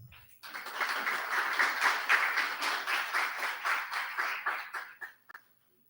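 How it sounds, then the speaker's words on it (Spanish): Audience at a talk on the active role of the labor judge applauding to welcome speaker Heidi Berroa, a steady, fairly close round of many hands clapping in pulsing waves for about five seconds before stopping abruptly into silence. "vamos a hacer la palabra con un fuerte aplauso a nuestra querida Heidi Berroa"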